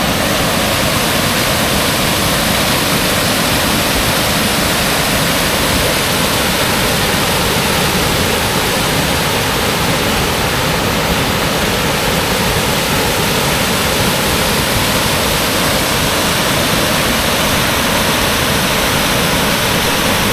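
Small roadside waterfalls near Kuppanatham dam, Tiruvannamalai, give a steady, loud, broadband rush of falling water that runs unbroken throughout, with no voices heard.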